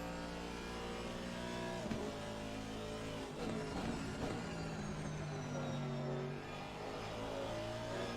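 Race cars driving at the Nürburgring in the Assetto Corsa Competizione video game, steady engine drone with revving shifts and passing bursts, cars running close together, fairly quiet overall.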